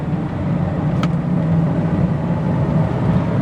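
A car pulling away on the drive home from a beer run, its engine drone and road noise close and steady throughout, building slightly, with no talk.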